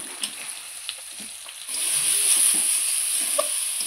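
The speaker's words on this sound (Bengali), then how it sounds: "মোচাটা দিয়ে আবারও ভালো করে আমি কষিয়ে নেব।" Banana flower sautéing in a pan for a vegetarian ghonto, a close frying hiss that swells louder partway through, with faint stirring taps.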